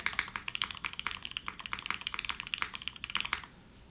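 Rapid clattering keystrokes on a mechanical keyboard fitted with GMK ABS keycaps, a close, continuous flurry of crisp clicks that stops abruptly near the end.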